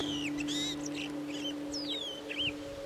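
Several chirps and whistled calls of a flock of chestnut-capped blackbirds in open shrubland, short bright notes scattered over a few seconds above a steady low hum, with no talking.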